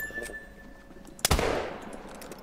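A muzzleloader rifle shot at bison in the hunting game theHunter Call of the Wild, a single loud, sharp blast followed by a rolling, fading echo against quiet ambient outdoor sound.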